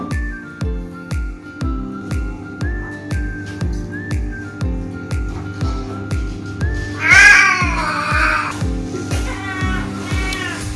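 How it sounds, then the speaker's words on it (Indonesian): Female cat yowling while mating, a rising, wavering howl near the middle over a steady loud rhythmic music beat, with a few shorter whining calls following. "ketika terjadi ngaungan, mengerung dari si kucing betina dan dia mengguling-gulingkan badannya"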